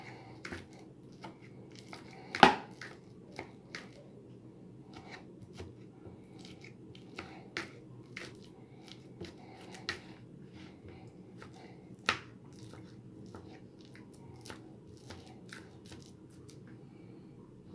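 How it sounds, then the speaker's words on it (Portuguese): A banana being mashed on a plate for banana bread, with faint scattered soft squishing and pressing taps over a quiet background, one sharper knock near the start. "Aqui a banana, vou amassar no prato mesmo."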